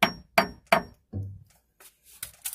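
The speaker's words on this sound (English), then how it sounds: "So I'm just hammering that flat off the outside edge." A hammer strikes the metal edge of a seal flange on a Turner T5A gearbox from a Bedford bus, three sharp ringing clinks in quick succession, then a duller thud and a few lighter taps, close and alone.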